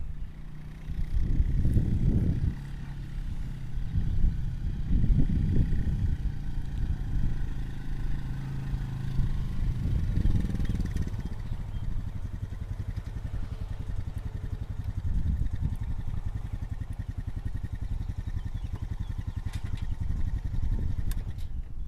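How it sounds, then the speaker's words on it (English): A four-wheeler ATV engine idles and runs steadily at close range during firewood work, with a throbbing mid-pitched drone that rises in a few surges and some light clatter, and no speech. "let's get the four-wheeler"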